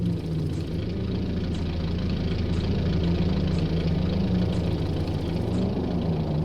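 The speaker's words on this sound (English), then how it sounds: "No shit, there's actual drag cars here." Drag car engines idle loudly in the My Summer Car video game, a steady low rumble with a rough, knocking pulse that holds evenly and close throughout.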